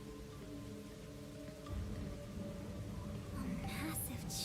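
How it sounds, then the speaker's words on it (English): Steady rain falling in the video game Rain Code, a soft continuous patter under a low hum that thickens midway, with faint clicks near the end. "So that's where the rain came from."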